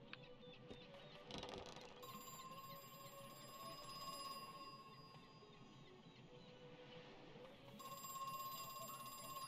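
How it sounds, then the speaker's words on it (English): A phone rings inside the horror video game Crow Country, a steady electronic alarm-like ringing that runs through the whole stretch over a quiet game ambience, with no one talking. "There's no way this fucker's actually giving me a phone call right now."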